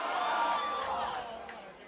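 Rugby crowd at a Richmond v Sedgley Tigers match cheering and whooping after a carving run, a broad sustained roar that swells early and slowly fades, heard from a distance with no clear talk over it.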